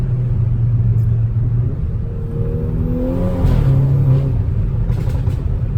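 Exhaust of a Volkswagen Golf 6 R with Stage 2+ tuning, a loud, steady deep rumble close by that swells and shifts pitch as the engine revs under acceleration, with no voices over it.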